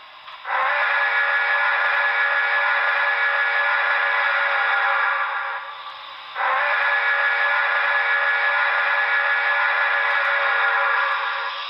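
A Broadway Limited HO-scale NYC Commodore Vanderbilt Hudson steam locomotive model sounds its whistle in two long, loud, chime-like blasts, the first about six seconds, the second about five, separated by a brief gap.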